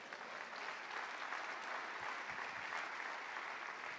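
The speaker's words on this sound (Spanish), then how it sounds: "Alguien se emociona y le da un aplauso a Dios." Church congregation applauding during a sermon, a steady even wash of many hands clapping at a moderate distance, with no voices over it.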